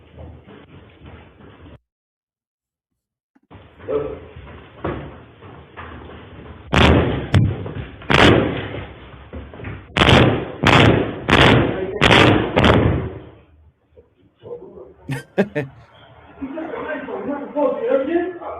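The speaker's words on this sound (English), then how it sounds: "He kicked the door in." A door is kicked in: a series of heavy thuds and bangs, about eight sharp impacts, comes through a muffled recording, with people talking in between.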